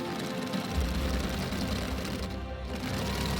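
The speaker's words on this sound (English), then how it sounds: "This was the time to sew everything after tacking it." A sewing machine stitches French seams on a dress with a steady, continuous mechanical whirr and a low rapid thrum that holds throughout at close range, with no talking.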